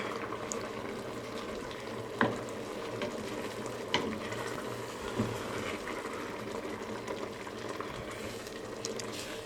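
Ukwa (breadfruit) with fish cooking in a pot, soft bubbling simmer with a few distinct knocks and scrapes of a spoon stirring to the bottom, fairly quiet and close, no speech.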